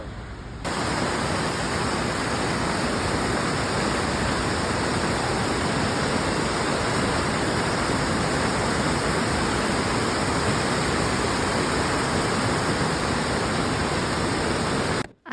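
Waterfall roaring steadily and loudly, a dense unbroken rush of falling water that fills the whole scene with no other sounds.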